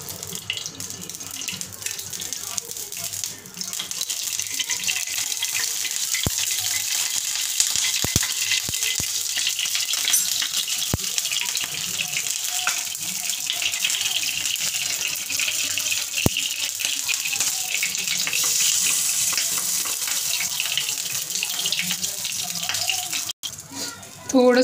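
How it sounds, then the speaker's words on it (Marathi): Hot oil sizzling steadily in a heated appe pan, a continuous bright hiss held at an even level throughout, with a few faint clicks and no talking. "ते पत्र चांगले तापलेले आहे त्याच्यात आपण तेल सोडूया"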